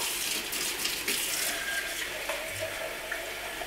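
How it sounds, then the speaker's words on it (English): Lukewarm water runs from a tap in a continuous, even hiss, fairly close and moderate in level, with a few faint clinks over the flow and no speech. "I get some lukewarm water."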